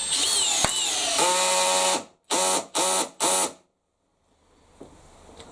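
A Makita XPH06 hammer drill in gear setting 2 drives into Vitex timber layered with pine ply without a pre-drilled hole, first a long steady whine under load, then three short bursts before it stops, close and loud.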